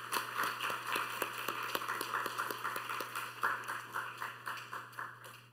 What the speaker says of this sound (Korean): 우리 잠깐 일어서 주시면 우리 환영의 박수 하도록 하겠습니다.